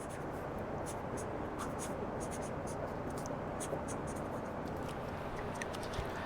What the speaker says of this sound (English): I'm just going to take our regular Sharpie and draw our light line